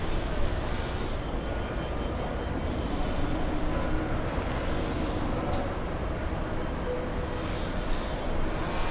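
An airliner at Los Angeles airport, bound for Narita, makes a broad, steady engine roar, loud and continuous with no clear rise or fall.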